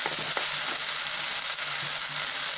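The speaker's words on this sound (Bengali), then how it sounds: "এবার এটা একটু ভাজা ভাজা হবে" Chopped tomatoes fry with a pinch of salt in a pan, a soft steady sizzle with faint stirring scrapes, fairly quiet and continuous without any voices.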